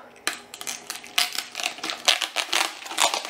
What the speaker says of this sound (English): I'm gonna go ahead and cut this plastic off